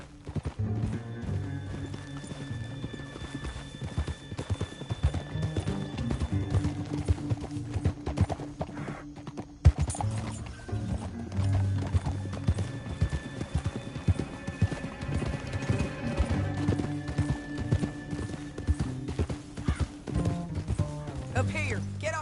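Horse hooves in the video game Red Dead Redemption 2 clip-clop steadily at a gallop, with occasional whinnies, over a continuous music-like backdrop; fairly loud and sustained throughout.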